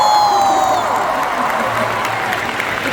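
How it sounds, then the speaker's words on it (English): A concert crowd in Montreal applauds and cheers at a pop show, with sustained loud clapping, whoops and shouting filling the space, and a few high whistles fading early on. "Ladies and gentlemen, round of applause for yourself."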